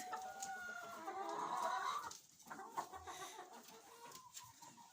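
Chickens cluck softly nearby, a rooster's drawn-out call rising briefly among the scattered clucks, with no talking.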